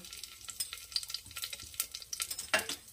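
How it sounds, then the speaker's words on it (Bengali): Mustard seeds and dried red chillies crackle and spit in hot oil while sambar dal with split peas is started, a dense, busy sizzle with quick popping bursts throughout and no voices. "তেল গরম হয়ে গেছে, দিয়ে দেবো অল্প সর্ষে, শুকনো লঙ্কা"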